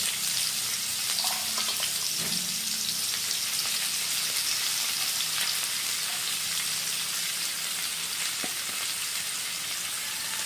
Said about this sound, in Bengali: আর পেঁয়াজটা ভাজার সময় গ্যাসের ফ্লেমটা অবশ্যই হাই করে রাখবেন বন্ধুরা